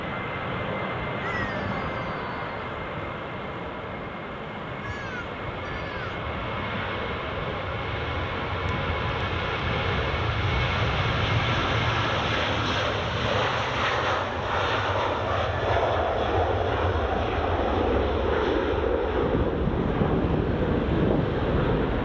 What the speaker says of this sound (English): Ryanair departing